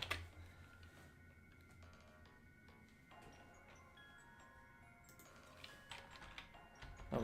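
Quiet keystrokes tap on a computer keyboard during coding work, a faint, uneven run of clicks with brief pauses between bursts.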